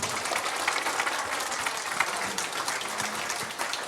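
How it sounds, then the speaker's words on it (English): An audience at a school board candidates' public forum applauds, a steady, moderately distant wash of clapping that holds evenly for a few seconds. "let's give another final round of applause for our candidates"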